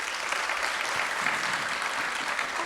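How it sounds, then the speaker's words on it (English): An audience at the 2025 Trans Pride Washington DC awards and keynote event claps together in a soft, continuous, even round of applause heard from some distance. "let's give yourself a round of applause"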